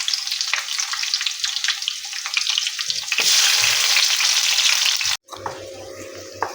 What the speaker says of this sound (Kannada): ಎಣ್ಣೆ ಹಾಕಿ ಸ್ವಲ್ಪ ಬಿಸಿ ಆದಮೇಲೆ ಈರುಳ್ಳಿ ಹಾಕಬೇಕು